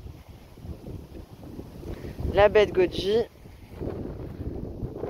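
Strong wind buffets a vegetable garden, rumbling steadily throughout while a person speaks briefly in the middle.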